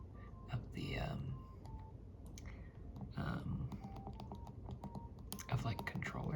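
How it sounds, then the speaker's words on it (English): Buttons on a Nintendo Switch controller click in quick, irregular bursts, close up and crisp, with soft voiced murmuring underneath at times. "have the sounds of the buttons being clicked."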